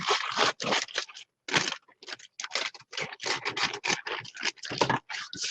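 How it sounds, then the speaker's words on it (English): Scissors cut through a small plastic bag in short bursts of crisp rustling and snipping, with brief pauses between, close to the microphone and with no talk. "I'm going to cut this little plastic bag here."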